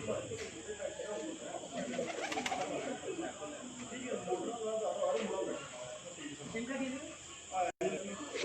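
Pigeons released from a rooftop in the evening, with soft cooing and flutters against a steady outdoor backdrop, people's voices audible around them.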